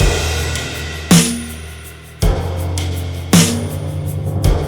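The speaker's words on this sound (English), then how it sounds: "we're going to take a snare that sounds like this" Three loud snare drum hits at an even, slow pace over a looping beat with ticking hi-hats.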